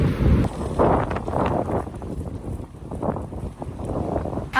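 Wind buffets a microphone during a walk on a beach, a loud, constant low rumble with gusty swells that covers everything else from start to finish.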